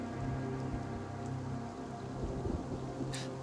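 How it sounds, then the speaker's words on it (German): Rain falls steadily in the video game Infection Free Zone, a constant hiss of drops on surfaces at a moderate level with no talking over it. "jetzt regnet es auch"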